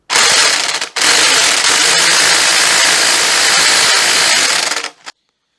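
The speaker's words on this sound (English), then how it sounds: "I'm going to try my Clark impact wrench and see if we can undo it with that" A Clark impact wrench on a Daihatsu Charade timing belt bolt gives a loud, sustained mechanical rattling burst, briefly cutting out near the start, then hammering continuously for several seconds before stopping abruptly.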